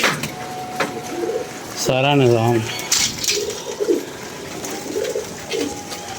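Pigeons coo in a loft, with one clear, close, rolling coo in the middle and softer calls around it, under a man's speech.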